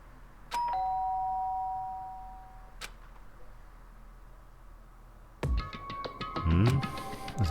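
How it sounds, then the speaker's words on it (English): A doorbell rings in the Danganronpa video game: a clear electronic chime with a lingering tone and a later single tap, then a louder burst of layered chimes and clanging toward the end. "did I hear the doorbell?"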